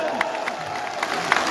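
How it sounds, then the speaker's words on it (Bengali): A crowd at a BNP rally on the field of Laksam Pilot High School claps steadily, a dense continuous patter of applause with a few louder claps standing out, close and fairly loud. "হাততালি দেই।"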